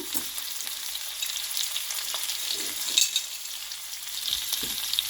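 Small broken garlic cloves sauté in hot oil in a pan for a garlic fish gravy, giving a soft, steady sizzle with occasional stirring scrapes and light taps of the spoon.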